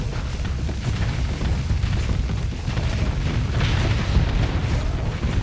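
Dumbfire missile explosions in the space game Starsector, a steady roar of rumbling blasts and pops layered thickly without pause, loud and close.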